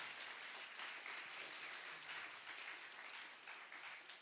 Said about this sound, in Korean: 들어갔을 때까지 큰 박수로 환영해 주세요.